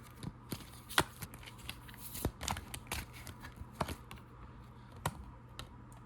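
Soft papery riffling and tapping of tarot cards being shuffled, irregular flicks and slaps close by in a quiet room, no talking.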